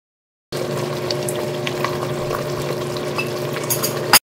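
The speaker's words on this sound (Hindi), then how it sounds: "इसके बाद 4 से 5 मिनट के लिए आपने उसको मीडियम फ्लेम पर फ्राई करना है" Chicken with garlic and green chillies frying over a medium flame, a steady close sizzle with occasional crackles and light stirring scrapes, running alone for about four seconds.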